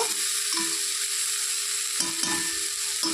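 Bitter gourd fries in oil in a pan with a strong, continuous sizzle, while a utensil stirs it with a few short scraping strokes.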